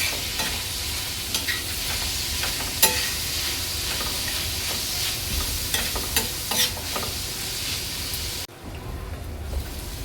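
Onion and tomato sautéed and stirred in a pan for dry prawn masala, a continuous hissing fry with repeated scraping and clinking from the stirring, then dropping quieter near the end.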